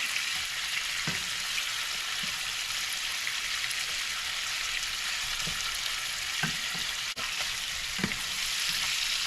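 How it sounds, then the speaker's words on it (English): Shrimp just turned over in a pan fry with a steady, even sizzle, broken by scattered clinks and scrapes from a utensil and one sharp knock near the end, with no talking. "Just turn them all over. Let them get a little heat on the other side"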